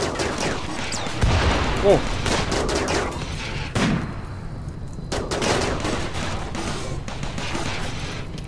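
Automated turret gunfire in RimWorld, with repeated rapid bursts of sharp shots in clusters across the clip and a brief voiced exclamation among them.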